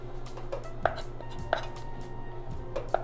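A knife trims the edges of an orange peel twist for a Sazerac, giving a few sharp, close cutting taps against a board, spaced irregularly over a low steady background hum.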